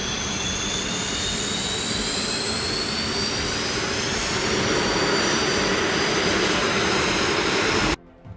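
Jet engine of a Bayraktar Kizilelma unmanned fighter running in a ground engine integration test, a loud sustained roar with a rising whine that cuts off abruptly near the end.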